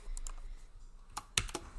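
Computer keyboard being typed on, a short run of sharp clicking keystrokes with one louder strike near the end, close and alone.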